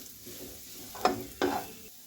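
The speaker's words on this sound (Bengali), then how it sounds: "হালকা মতো পেঁয়াজটাকে ভেজে নেব।" Chopped onions fry in a pan for a Spanish omelette, with two brief bursts of sizzle and stirring over a quiet background.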